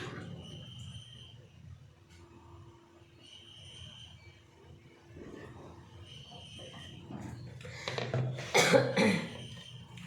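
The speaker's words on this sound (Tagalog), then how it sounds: "dahil paus tayo at inuubo tayo" Repeated rough coughing near the end, loud and close, after a quieter stretch of room noise with faint chirps; the person is hoarse and has a cough.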